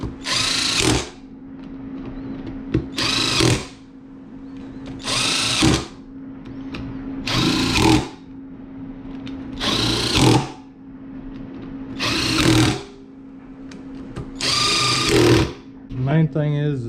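A power tool runs down bolts on a Yamaha Moto 4 350 differential in repeated short, loud bursts, about seven in all, with a steady low hum between them.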